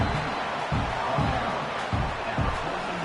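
A football stadium crowd makes a loud, dense roar as the defense faces a red zone play, with rising surges of cheering and a few heavy thumps throughout.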